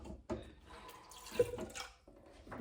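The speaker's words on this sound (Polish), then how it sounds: "Wleję woda." Water pours steadily into a Thermomix kitchen mixer in short bursts, with a gurgling, splashing quality at close range and no talking.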